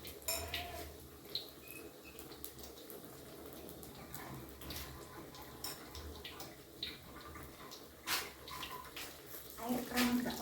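Tap water runs into a metal pan while cooking bitter melon and frying tempeh, with clattering of cookware and utensils and a steady background hum.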